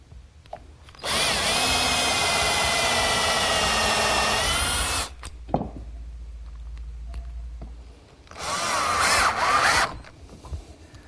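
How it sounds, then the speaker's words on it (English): A power drill whines loudly for several seconds pre-drilling holes in wood, stops with a few clunks, then runs again in a shorter burst driving screws, close by. "pre-drill some holes, and attach it with some screws."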